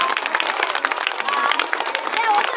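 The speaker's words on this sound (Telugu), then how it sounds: "గట్టిగా క్లాప్స్ కొట్టండి." A school audience at an annual day award ceremony claps in a dense, continuous round of applause with a voice speaking over it.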